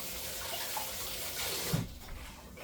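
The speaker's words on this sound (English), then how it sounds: "I just wanted to wash my hands" Tap water running at a kitchen sink for a hand wash during cooking, a steady moderate splash that cuts off near the end, with no talking.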